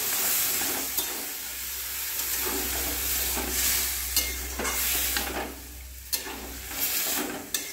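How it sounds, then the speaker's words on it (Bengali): Kabuli chickpeas being stirred in a sizzling pan, with a steady frying hiss and repeated scraping strokes of the spoon at close range, alone without talk. "আমি এখানে কাবলি ছোলাগুলো দিয়ে একসঙ্গে মিক্স করতে লাগলাম"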